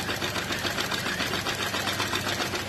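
A sewing machine stitches fabric while a neckline is being attached, running as a steady, close, rapid mechanical whir with no pauses and no talk.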